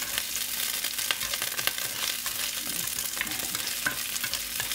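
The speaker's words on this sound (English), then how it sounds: "Sauteing up over here." Ingredients sauté in a pan for a coconut chickpea curry: a constant crackling sizzle punctuated by utensil clicks and stirring, with no talking.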